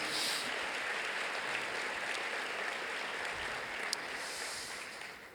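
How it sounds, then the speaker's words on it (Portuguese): A church congregation gives a faint, distant round of applause, a soft steady patter of many hands that holds evenly before tapering off. "Você pode aplaudir ao Senhor mais uma vez?"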